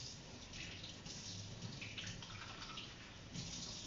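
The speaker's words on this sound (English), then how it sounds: "Let me wash my hand" Hands are washed under a running tap, a faint steady splashing hiss of water that stays even and quiet throughout.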